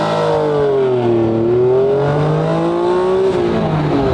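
A Honda NSX with a clutch launches hard, its engine revving loudly and continuously up through rising and dipping pitch sweeps for about four seconds, close and with no talk over it.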